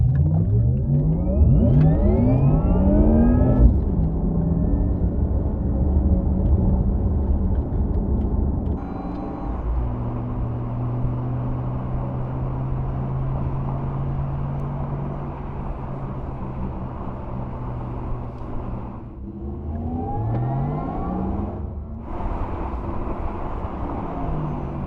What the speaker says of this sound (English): kind of this electric rocket ship sound. It's very futuristic.